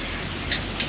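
Continuous rain falls in Kashmir, a steady moderate hiss with two faint brief ticks, heard alone without voices.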